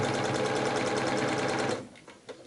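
A sewing machine stitches around quilted leaf shapes in a rapid, even needle rhythm that runs steadily, then stops, leaving a few faint clicks of handling.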